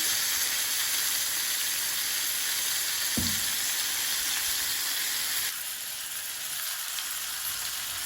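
Local fish deep-frying crisp in hot oil, giving a steady loud sizzle and hiss that continues throughout, with one brief stir or clunk partway and a slight drop in level near the end, with no talking.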